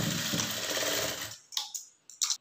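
A sewing machine stitching a lined blouse runs in a steady, rapid mechanical whir for over a second, then stops, followed by a few short clicks and handling taps.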